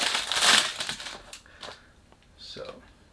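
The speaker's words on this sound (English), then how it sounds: "Sorry about the noise. When you do unboxing, you can't do anything about it." Perfume packaging crinkling and rustling as a Jacomo Le Parfum box is unboxed, with a loud crinkly burst at the start and then softer, scattered rustles and handling noises close by.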